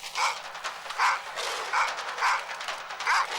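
Dog barks or growls from a scene in the werewolf film Dog Soldiers, heard as five evenly spaced, fairly loud bursts over about three seconds, alone without talk.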